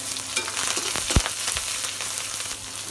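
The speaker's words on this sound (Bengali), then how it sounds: "পেঁয়াজটা আমি একটু বাদামি কালার করে ভেজে নেব" Onions, with garlic, green chillies, bay leaf and five-spice, sizzle steadily in hot oil as they fry toward brown, a continuous crackling hiss with occasional stirring scrapes and a brief low knock.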